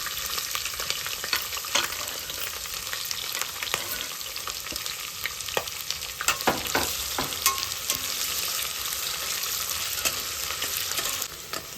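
Chopped onion and slit green chillies fry in oil for a chicken biryani, a constant close sizzle broken by scattered clicks and scrapes of stirring.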